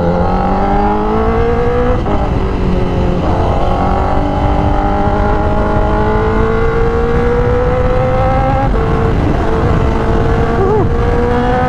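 A Honda CBR1000RR-R Fireblade SP motorcycle engine revs in third gear as a loud, steady, high whine whose pitch climbs gradually and dips briefly a couple of times, with no talking.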